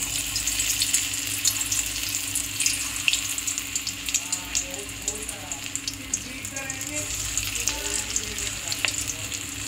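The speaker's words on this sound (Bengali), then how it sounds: "এবার এটাকে বড়ার শেপে তেলের মধ্যে দিয়ে দিতে হবে।" Lentil fritter batter hits hot oil in a pan, giving a steady soft sizzle with small bubbling crackles and a low background hum, fairly quiet and without speech.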